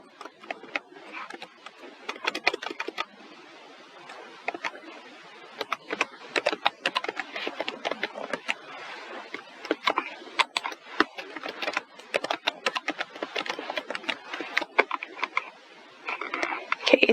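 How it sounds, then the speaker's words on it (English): Fingers type a password on a computer keyboard in a quick, continuous run of close, light key clicks with brief pauses, steady throughout. "now we're going to create our password."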